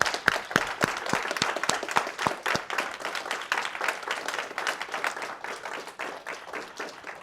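An audience at a book talk and launch event gives a round of applause, with dense, steady clapping at moderate distance that thins and fades over several seconds, with no talking over it.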